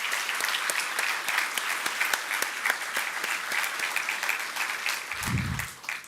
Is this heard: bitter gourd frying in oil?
no